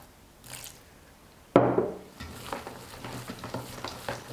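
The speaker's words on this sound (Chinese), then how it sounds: "搅至肉馅儿变成这样抱团粘稠的状态即可" Minced meat filling for a homemade meat pie being beaten in one direction with water added bit by bit, a sudden wet slap followed by rhythmic sticky churning, close and alone.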